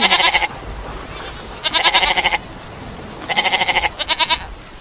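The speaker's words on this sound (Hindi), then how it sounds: "अपनी भेड़ें बाहर ही रुककर मैं करने लगी" Sheep bleat outside a cave in a cartoon story, with four loud, close, wavering calls coming in separate bursts over a low rumbling background.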